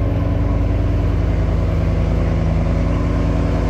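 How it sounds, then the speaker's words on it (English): A BMW M550i (2020) with a stage 2+ tune idles right after starting, a steady, loud, close low drone with a constant hum and no voices over it. "Car started up."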